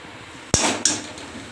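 A metal ladle clinks twice against a small kadhai while stirring chilli powder into hot oil for a tadka. The two sharp, close metallic taps come a moment apart over a low kitchen hiss.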